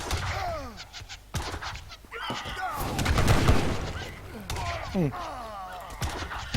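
In the Age of Empires 3 video game, organ guns and cannons fire in a busy battle, with bursts and booms rising and falling under a commentator's continuous talk.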